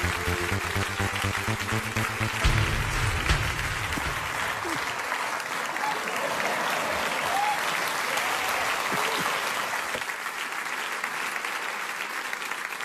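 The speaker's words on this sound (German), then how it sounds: "Großer Applaus für Curly und Photoshop Philipp." A studio audience at a German late-night comedy show applauds loudly and steadily, a dense sustained clapping with some crowd noise that carries on throughout.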